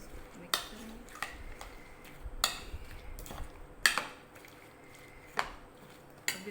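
Russian salad being mixed with Tetra Pak cream in a bowl: soft wet squishing under a quiet background, punctuated by about seven sharp clicks of a spoon striking the bowl at uneven intervals.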